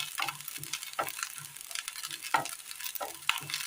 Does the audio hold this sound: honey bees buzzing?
no